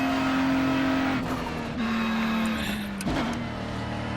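A Ferrari GT3 race car in the iRacing game at Charlotte Roval, its engine holding a steady high whine that steps down through gear changes, with a sharp blip near the three-second mark before settling into a lower drone.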